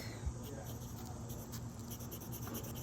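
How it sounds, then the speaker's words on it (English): A broad nib fountain pen laying down brown ink scratches and rubs softly across paper in a steady, faint, close stroke sound under a low background hum. "the broad nib is definitely too much. It's putting down a lot"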